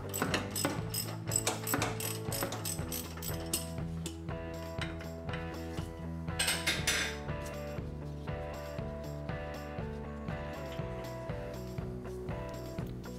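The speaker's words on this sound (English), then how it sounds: "Then we'll use an 18mm socket and again some vice grips to finish her off." An 18mm socket on a ratchet turns a sway bar link nut on a 2007–2014 Volkswagen Jetta, giving a long run of rapid, close metallic clicking that keeps up for several seconds.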